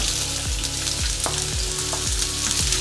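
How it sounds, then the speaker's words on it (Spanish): Sliced onion sizzling in hot oil in a frying pan over medium to medium-high heat, a steady close crackle with regular scraping knocks from stirring about every half second. "en una sartén a fuego medio o medio alto vamos a agregar un poco de aceite y agregamos la cebolla"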